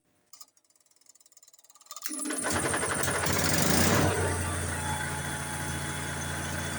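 A 4 kW Onan generator engine cranks briefly, then catches and settles into a loud, steady running drone that stays close and constant.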